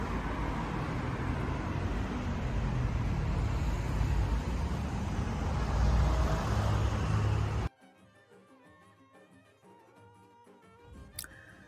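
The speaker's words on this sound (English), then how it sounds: "Traffic is mostly really busy." Busy street traffic in Istanbul in winter, a dense continuous roar of passing cars and buses that cuts off abruptly partway through, leaving quieter faint background sounds.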